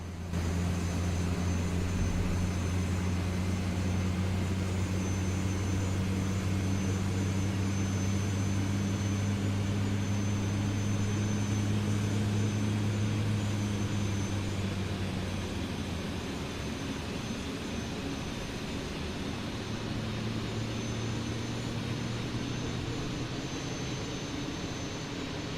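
Airbus A380 jet engines spool up in a flight simulator, a steady loud roar with sustained low tones that shift in pitch partway through, continuous for the whole stretch with no talking.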